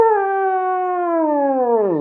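A man imitates a dog howling with a single long, steady tonal howl that holds its pitch and then bends downward at the end, close and clear with nothing else around it.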